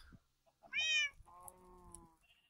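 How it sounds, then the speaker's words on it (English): A guardian panther in a Minecraft modpack gives one clear, close meow, a short rising then falling cry, followed by faint game tones. "So now it's a jarred guardian panther."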